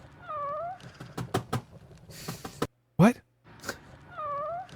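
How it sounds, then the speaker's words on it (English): A video game cat meow sound effect is heard among talking and laughter on a livestream, with a short spoken question in between. "are you talking about the cat sound effect?"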